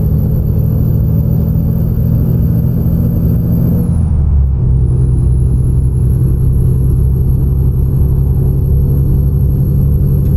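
Steady, loud diesel drone of a heavy truck with a Detroit engine climbing a steep hill in American Truck Simulator, a brief dip and shift in tone partway through, then the same deep rumble continuing, with a high whine above.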